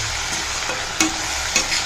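Chili-spiced masala sautéing in a pan, a steady close sizzle with soft stirring scrapes and two sharp utensil clinks against the pan.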